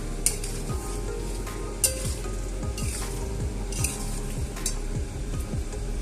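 Chilli cauliflower with a sprinkle of sugar stirred in a frying pan, a continuous sizzle with repeated scraping strokes and occasional sharp utensil clinks against the pan, over a low steady hum.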